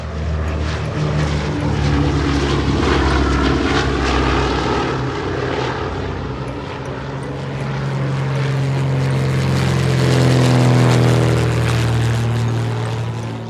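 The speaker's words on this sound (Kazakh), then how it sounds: "Бұл ұшақ." A propeller airplane drones close by, its engine tone shifting and rising as it passes, loud and continuous with no voices.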